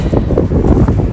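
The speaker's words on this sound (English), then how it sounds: "Sorry for the wind. It's probably really loud." Loud, rumbling wind buffets the microphone in a continuous low roar, with no voices present.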